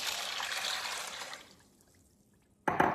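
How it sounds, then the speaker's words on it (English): Water pours onto dry macaroni in a Dutch oven, a steady close splashing stream lasting about a second and a half before it trails off, followed by near silence and then a brief clatter. "You combine that in your Dutch oven along with 2 cups of water."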